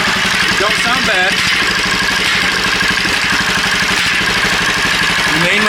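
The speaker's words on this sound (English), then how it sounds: "This is the custom exhaust that I was telling you about." A golf cart engine idles steadily up close, its custom exhaust giving a throaty, even putter that continues without change throughout.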